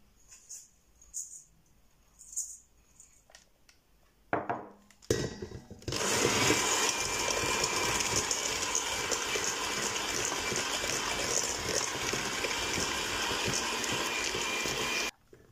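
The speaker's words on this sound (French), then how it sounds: "Je vais commencer à mélanger au batteur électrique le sucre avec les jaunes d'œufs." An electric hand mixer beats sugar with egg yolks for a chocolate roll cake. A few soft knocks and clicks come first, then the mixer switches on and whirs loudly and steadily for the rest of the stretch.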